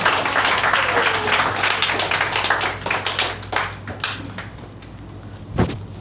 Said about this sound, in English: So can we give a round of applause to Wong Chi